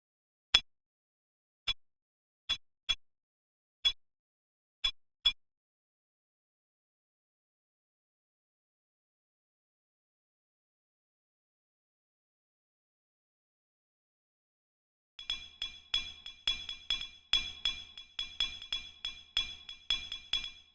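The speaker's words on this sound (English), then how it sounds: "I'll use this glass clicking sample." Glass clicking Foley sample for a hypnotic techno track: six sharp, bright ticks spaced apart, then a long silence, then a rapid, busy stream of clinking clicks running to the end.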